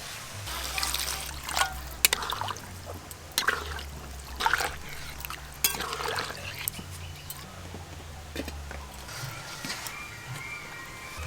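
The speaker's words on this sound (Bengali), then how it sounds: "সুন্দর করে মশলার সঙ্গে আলু কষে নিয়েছি, এবার জল দেব" Water is poured into a pan of potatoes cooking in spices, giving faint trickling and intermittent splashy bursts over a low steady hum.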